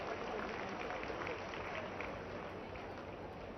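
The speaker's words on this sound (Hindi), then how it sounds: "जोरदार उनका ताली बजा के सब जन स्वागत कराओ" An audience claps loudly and steadily to welcome a guest at a public event, a dense even wash of applause that holds at the same level from start to finish.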